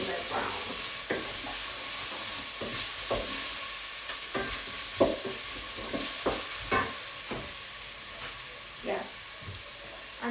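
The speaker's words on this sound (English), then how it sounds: "keep those onions in there until they're brown" Onions frying in a pan until browned for a lamb shank recipe, a steady sizzle and hiss running throughout with repeated clinks and scrapes of stirring.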